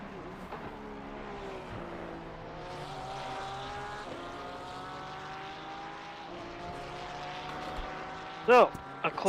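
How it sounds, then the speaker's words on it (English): Ferrari race car engine in Assetto Corsa Competizione at the Nürburgring droning steadily with shifting pitch as it accelerates, a continuous mechanical hum, with a brief sharp burst near the end. "I can hear the curbs clearer than I can actually hear the Ferrari."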